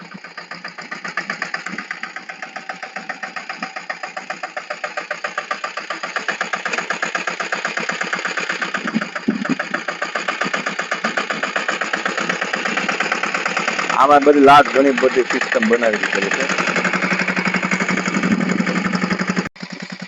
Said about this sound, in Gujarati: સનેડો ટ્રેક્ટર તો અહીંયા હાલે છે ધબધબાટી